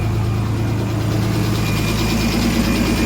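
A truck engine idles steadily after coolant has been added, warming toward operating temperature; the dense, unbroken low rumble is loud and close throughout, with no talk.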